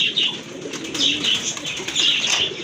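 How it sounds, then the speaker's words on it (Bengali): Barhuma pigeons coo softly in a close series of low, rolling calls with faint chirps mixed in. "এটা হচ্ছে আপনার বারহুমা কবুতর"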